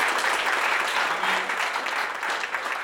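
Sustained applause from an audience at a university department farewell for two retiring professors, steady and dense clapping filling the whole stretch with no pauses.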